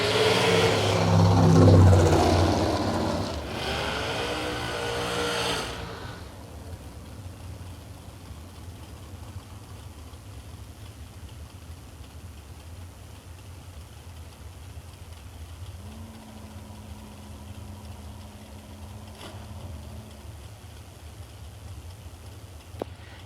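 A drag racing car at a strip launches with a loud, roaring burst over the first six seconds as its trans brake fails to hold, then the noise drops to a distant low rumble with a brief steady whine later on.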